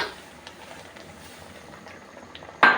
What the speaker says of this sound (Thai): เขามันเดือดได้ที่แล้วนะคะ